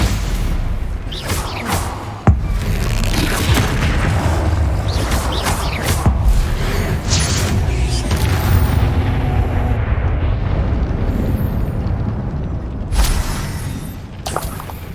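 Booming spell explosions from the Hogwarts Legacy video game, loud and continuous with bursts, whooshes and shattering impacts piling up over a dense rumbling battle.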